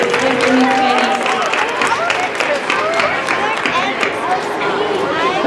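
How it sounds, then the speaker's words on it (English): A round of applause from kids and families at a school assembly, steady dense clapping and crowd noise filling the room, with voices and chatter mixed underneath. "Let's give a round of applause to those kids that did pretty good projecting the board."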